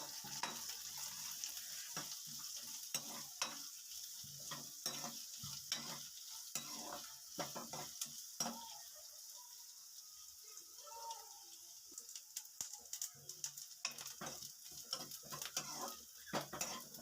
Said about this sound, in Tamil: கூடவே கறிவேப்பிலையை சேர்த்துட்டு நல்லா வதக்கிக்கலாம்